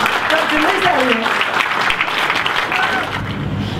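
Audience applause at a talk as a speaker is introduced, a sustained wash of clapping with voices speaking and calling out over it.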